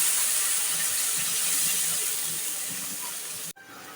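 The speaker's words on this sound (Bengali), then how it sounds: "অল্প করে পানি দিয়ে দিচ্ছি।" Water splashed into a hot pan of fried onions and ginger-garlic paste gives a loud, steady sizzling hiss that slowly eases, then breaks off abruptly near the end.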